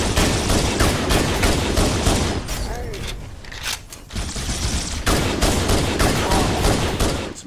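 Rapid gunfire from Halo: Combat Evolved crackles in loud, dense bursts through most of the stretch, briefly thinning in the middle before resuming at full intensity.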